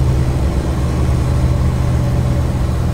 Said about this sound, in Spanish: y con puro freno de motor, o sea, no estoy acelerando ni nada.